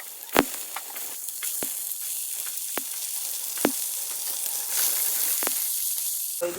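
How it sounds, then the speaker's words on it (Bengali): Spices frying in a pan at home, a steady low sizzle running throughout with several sharp clicks and knocks from the cooking scattered across it, fairly close. "ওইদিকে দেখো মশলা কষছে"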